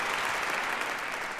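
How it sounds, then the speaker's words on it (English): A dense, steady wash of audience applause fills a brief moment at an awards ceremony, loud and sustained with no pauses. "give yourselves a huge round of applause"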